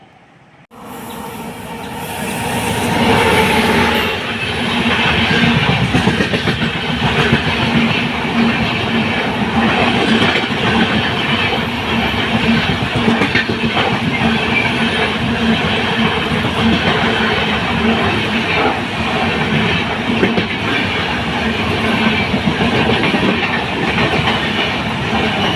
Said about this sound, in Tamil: இப்போ போன ட்ரெயின் வந்து train number 20910 Porbandar Thiruvananthapuram north express